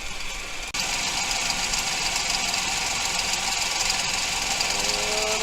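Mahindra 2555 tractor diesel engine idles with a backhoe mounted, a steady close rumbling drone with a brief dip near the start, then constant and loud.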